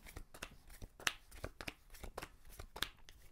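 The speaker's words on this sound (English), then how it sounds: "Every round I put up 6 cards from the deck" Cards are dealt one by one from a deck during a game of Showboat, giving a series of light, crisp snaps and slides on a table, close and fairly quiet, with a few sharper flicks standing out.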